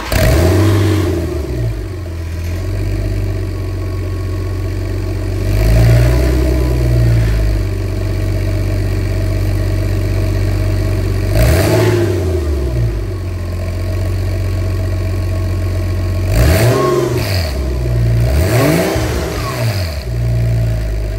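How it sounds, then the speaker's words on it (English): A Porsche Boxster 986 fitted with an inexpensive aftermarket exhaust idles close by, then is revved several times in sharp bursts that rise and fall back to a steady idle. "here's what my exhaust currently sounds like with the eBay option."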